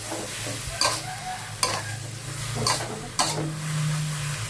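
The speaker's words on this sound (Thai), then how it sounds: "คลุกเคล้าให้เข้ากันผัดไปเลยค่ะ" Napa cabbage being stir-fried in a wok with oyster sauce and seasonings: a steady sizzle underneath, with four sharp scraping stirs spaced about a second apart, close up, and no talking.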